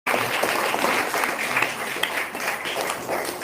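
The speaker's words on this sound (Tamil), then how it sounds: "அங்கே இருக்கிற மக்கள் எல்லாரும் அவ்வளோ சந்தோஷமாக கைத்தட்டி அப்பாவுக்கு நன்றி சொல்லுவாங்க" Crowd of worshippers clapping at a Sai Baba temple, a steady dense patter of many hands sustained throughout, fairly close and even in loudness with no pauses.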